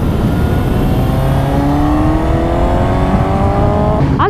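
A loud Suzuki motorcycle engine hums steadily, its pitch climbing smoothly as it revs up before a sharp change at the end, with no talking.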